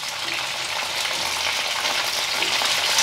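Brinjal and groundnut mixture with tamarind frying in a pan gives off a steady, close sizzle with some stirring, continuous and fairly loud, with no talking.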